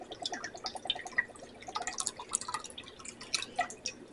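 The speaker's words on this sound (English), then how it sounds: "Now we need to put a can of the Goya peach nectar." A 9.6-ounce can of Goya peach nectar being poured into a pork steak marinade, a steady stream of close, bright dripping and splashing liquid that continues throughout without talk.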